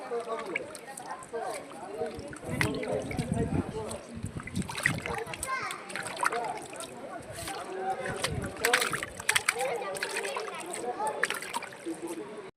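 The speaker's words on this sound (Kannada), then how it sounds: "ಈ ಹೆಜ್ಜೆಯಲ್ಲಿ ನೀರೆಲ್ಲ ತೆಗಿತಾ ಇದ್ದೀನಿ" Water being scooped out of a footprint hollow in stone at the Lepakshi fort, with repeated splashes and sloshes under continuous talk and a voice.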